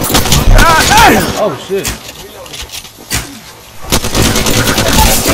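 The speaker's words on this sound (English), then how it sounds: "I was firing a Mozambique and holding it like an alternator." The Mozambique shotgun fires in Apex Legends, loud and close, in sharp blasts spread unevenly through the moment. A player's excited voice cuts in over the shots.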